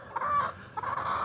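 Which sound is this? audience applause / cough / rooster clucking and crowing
rooster clucking and crowing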